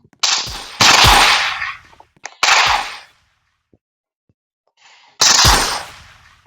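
Bursts of video game gunfire, automatic fire in several loud, dense volleys separated by short pauses, with a brief faint sound in one gap.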